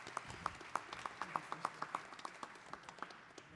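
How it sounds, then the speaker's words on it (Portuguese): Audience at the Cante Fest 2021 music festival giving a round of applause, a faint, sparse patter of hand claps in a loose steady rhythm. "Uma salva de palmas para eles,"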